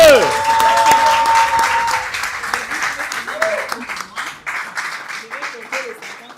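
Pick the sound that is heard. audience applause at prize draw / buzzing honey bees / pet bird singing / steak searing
audience applause at prize draw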